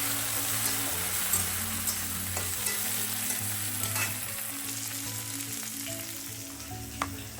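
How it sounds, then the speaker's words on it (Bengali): Tomato and dried chili fry in a pan with a loud, dense, crackling sizzle that runs throughout, with a steady low hum beneath and occasional utensil taps. "তো ওটা দিয়ে এখন আমি ভালোভাবে একটু ভেজে নেব।"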